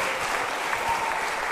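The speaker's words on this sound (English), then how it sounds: "A mighty round of applause." Steady, dense applause from an audience welcoming a school choir on stage, a continuous wash of clapping at even loudness throughout with no voices standing out.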